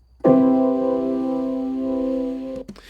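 A single piano major seventh chord is struck and left ringing for a couple of seconds, then released with a soft thump.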